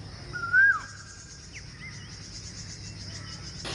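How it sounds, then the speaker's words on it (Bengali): An Asian koel calls near a riverside walking path on the Turag river bank: one clear rising whistled note followed by fainter calls over quiet outdoor ambience. "আহ কি মধুর সুরে কোকিল ডাকছে।"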